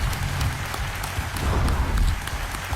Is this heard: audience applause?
yes